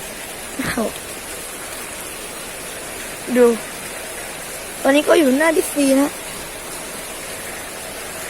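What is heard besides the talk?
heavy rain falling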